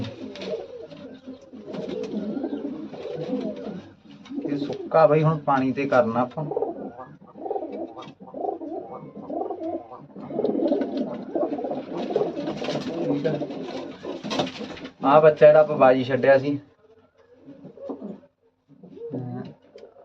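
Racing pigeons in a loft coo repeatedly in bursts, close and clear, while someone talks over them.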